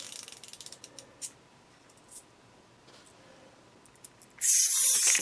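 A wind-up Halloween horror figure being cranked gives a run of quick ratcheting gear clicks and a few scattered creaks. A loud burst of hissing noise comes at the end.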